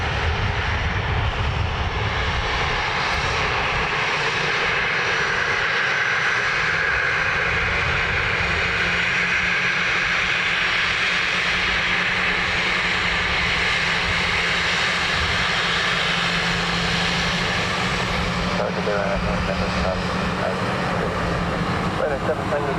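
Ryanair jet airliner landing at Dublin Airport, a loud sustained engine roar that swells and holds across the whole stretch, with a rising whine in the middle and tower radio talk underneath.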